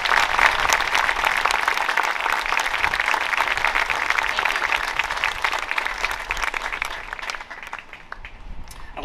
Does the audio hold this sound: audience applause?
yes